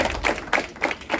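Several evenly spaced hand claps ring out at a student math competition, a short rhythmic burst of clapping rather than a full crowd ovation.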